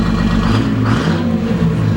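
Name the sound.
old truck exhaust cap flapping as engine revs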